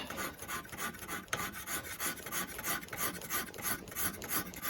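A hand file rasps steadily across the steel of a rifleman's knife, shavings building up as it works a facet; quick repeated back-and-forth strokes, close and continuous, with no voices.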